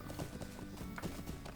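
A horse's hooves clip-clop in the online game LOTRO, a quiet rhythmic run of hollow, evenly paced hoof beats with a faint background hum.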